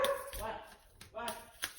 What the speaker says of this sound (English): Please excuse my dogs barking.